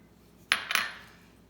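A fork mixing ricotta and Parmesan in a bowl, heard as two quick metallic clinks against the bowl close up, fading into quiet.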